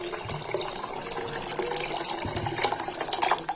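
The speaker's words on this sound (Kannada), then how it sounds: "ಈಗ ಎಷ್ಟು ನೀರು ಬೇಕಲ್ಲ ಅಷ್ಟು ನೋಡಿ ನೀರು ಹಾಕೋರಿ" Water pours into a pot of dal khichdi in a steady, close gush that lasts for a few seconds, with no voices.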